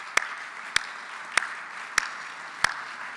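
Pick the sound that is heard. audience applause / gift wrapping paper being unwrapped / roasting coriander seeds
audience applause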